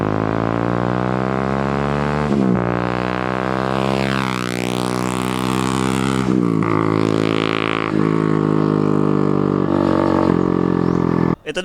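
Bajaj Dominar 400 motorcycle fitted with an SC Project slip-on muffler, its exhaust droning steadily and then revving up and dropping back in pitch, loud and close with a sharp cutoff at the end.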